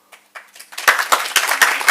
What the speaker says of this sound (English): And then the applause